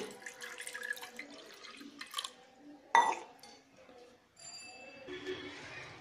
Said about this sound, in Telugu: గ్లాసు లేదా అర గ్లాసు వాటర్ను పోసుకుని